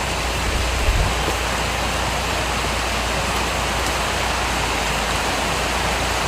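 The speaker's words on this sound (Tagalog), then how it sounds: "Malakas ng ulan" Steady, dense downpour of heavy rain, a constant loud hiss with no pauses and no voices.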